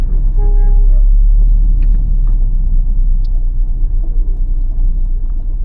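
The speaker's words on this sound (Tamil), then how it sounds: "செகண்ட் கியர்லேயே கொஞ்சமாக கிளச் ரிலீஸ் பண்ணுறேன், ஃபுல்லாக ரிலீஸ் பண்ணல" A car creeps through night traffic in Chennai in second gear with the clutch only partly released, giving a loud, steady low engine rumble. A few faint ticks sound over it.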